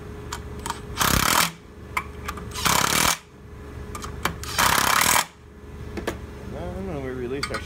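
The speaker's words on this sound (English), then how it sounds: "We can just go ahead and snug back our bolts." A power tool snugs bolts back onto an OSP Sidewinder snowmobile clutch in three loud, close bursts of whirring and rattling, each about half a second long, with quieter handling noise between them and a brief whine near the end.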